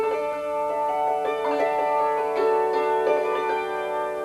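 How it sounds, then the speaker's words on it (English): Hammered dulcimer struck with a flam ornament over a sustained drone, bright ringing metallic strings with overlapping decays and repeated struck accents at a steady moderate level. "Now a form of the drone, or something that fits in real well with the drone, is a flam."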